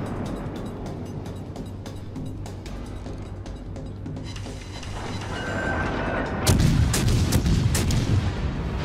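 Main guns of the Suzuya, a Tier 7 Japanese cruiser in World of Warships Legends, fire in repeated booming salvos over a steady engine rumble, with a louder, denser burst of gunfire partway through.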